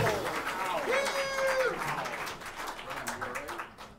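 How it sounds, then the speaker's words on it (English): Audience applause for a clarinet and alto saxophone player at a jazz set in Birdland Theater, a steady wash of clapping through the whole stretch with a voice and whistled tones riding over it, fading slightly at the end. "Peyton got more applause"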